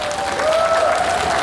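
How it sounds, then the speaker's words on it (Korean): Festival audience at the Gangjin Celadon Festival applauding loudly, dense clapping from a large crowd that swells slightly and holds steady, close and continuous. "백미경 씨를 박수로 환영해 주십시오."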